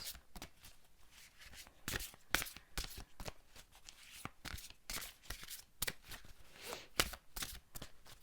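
Oracle cards are shuffled and cut by hand during an Archangel Michael guidance reading, giving repeated crisp riffling and flicking bursts in an irregular rhythm, close and fairly quiet.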